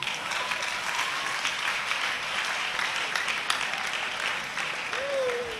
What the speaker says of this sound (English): Everybody clap hand for him.